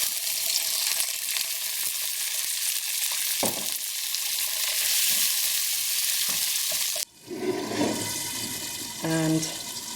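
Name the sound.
prawn curry cooking in a pan on low heat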